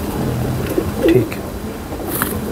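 Teddy breed pigeons coo softly in a loft, a low murmuring call rising briefly near the middle over steady background noise, with faint bird chirps around it.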